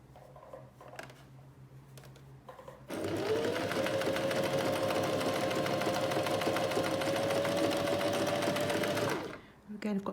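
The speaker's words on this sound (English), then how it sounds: "So I'm going to try H now. H is looking quite attractive, this lovely scallop." Alfa Practik 9 sewing machine stitching a close-set scallop satin stitch, a steady motor whir holding one even pitch for about six seconds before stopping, with quiet handling noises before and after.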